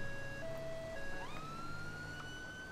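A British police car siren in GTA V multiplayer roleplay wails alone with steady rising and falling tones, fairly close and moderately loud, with a low engine hum beneath.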